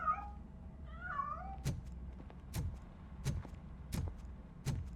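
A cat meows a couple of times early on in the video game RoboCop: Rogue City, followed by five evenly spaced dull thuds, with faint background ambience throughout.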